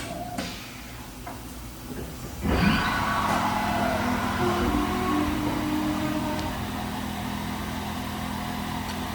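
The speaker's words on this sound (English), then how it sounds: "We're going to do a tool change." A 2007 Haas VF-3YT/50 vertical CNC machining center performs a tool change: a sharp mechanical clunk, then a steady, fairly loud whirring machine hum that continues unchanged.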